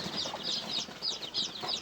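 Fayoumi hens kept for brooding cluck softly and repeatedly at close range, a quick rhythmic series of short calls with no talking.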